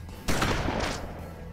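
A single gunshot fired in the western tactical video game Hard West: one sharp, loud crack followed by a long, echoing rumble that fades slowly.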